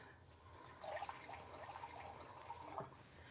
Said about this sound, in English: and we're gonna add a cup of water.